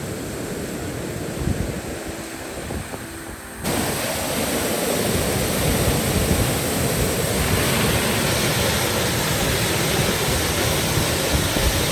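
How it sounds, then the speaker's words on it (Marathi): A large forest waterfall with a heavy flow of water roars as a loud, dense, continuous rush, growing fuller and stronger after a few seconds as the sound comes closer, with some wind buffeting and no talk. "पहा काय असा धबधबा आहे, पाण्याचा प्रचंड असा फ्लो आहे."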